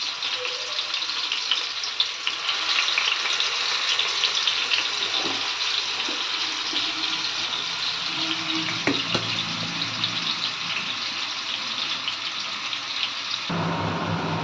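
Leftover chicken marinade spices sizzle in hot mustard oil with a loud, continuous crackle that runs throughout, with a few soft stirring knocks along the way.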